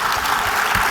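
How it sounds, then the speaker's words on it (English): Audience applause for two presenters at the close of a talk, a steady wash of clapping filling the short moment at fairly close range without speech. "And with that, one more round of applause from Matthew and Ashley."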